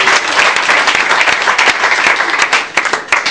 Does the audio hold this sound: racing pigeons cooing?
no